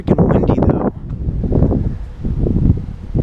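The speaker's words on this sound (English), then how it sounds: "It's very freaking windy though." Strong outdoor wind in Florida buffets the microphone with a low, rumbling roar in uneven gusts, pressing under and between brief stretches of voice.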